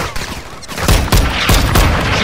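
Heavy, dense gunfire in Call of Duty MW2 during a Mexico cartel mission, with several loud booming reports over a constant roar of battle noise, close and full.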